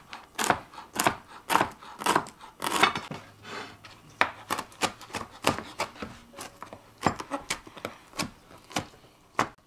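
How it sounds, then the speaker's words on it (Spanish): Knife chopping pork chicharrón on a board, a steady run of sharp, close taps at an uneven rhythm, each cut crisp and distinct with little else around it. "Ya piqué lo que fue el chicharrón que tiene carnita"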